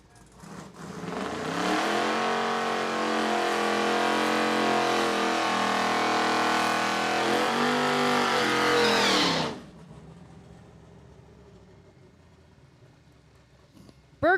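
Race cars at a live motorsport event roar past loudly for about nine seconds, their engines revving and shifting, before cutting off abruptly into quiet low track ambience.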